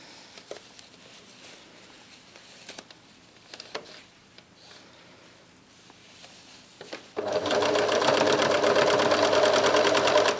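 Sewing machine stitching scrunchie fabric, starting after a quiet stretch of faint handling clicks and running loud and steady at close range for the last few seconds.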